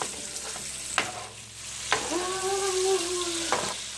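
Bacon fries in a pan with a steady, moderate sizzle, broken by a few sharp clicks and knocks of utensils and a brief higher-pitched squeak-like tone.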